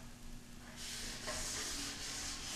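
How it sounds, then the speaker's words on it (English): Wet sanding spray-painted primer on a mirror, a steady soft rubbing that begins about a second in and continues in smooth back-and-forth strokes, close and faint. "I'm just gonna wet sand my brains out on this thing here"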